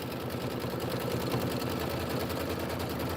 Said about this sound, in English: And then it wants to do the background quilting.